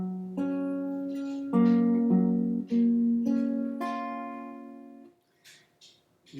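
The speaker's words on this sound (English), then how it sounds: "So all together, that sounds like this." Fingerstyle acoustic guitar picks single notes that climb up through the strings, six or seven soft plucked tones ringing into one another before fading to near silence.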